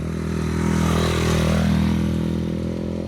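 Motorcycles on a dirt road give a loud, close, steady engine drone with a rising and falling pass and some gravelly clatter underneath.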